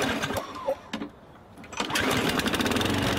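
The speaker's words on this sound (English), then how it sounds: "I'll first run the mower with the grass pickup turned off" A push lawn mower in Farming Simulator 15 sputters and catches, then settles into a steady buzzing engine drone at close range, no voices.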